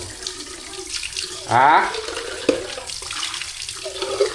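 Water poured into a glass in a home kitchen during a meal, a short gurgling pour rising in pitch over about a second, with household background and a brief spoken interjection nearby.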